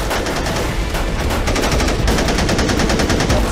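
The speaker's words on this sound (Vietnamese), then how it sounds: "Ra lệnh pháo binh nã pháo," Rapid bursts of automatic gunfire and booming artillery rattle through a loud, dense battle scene, continuous and close with no pauses.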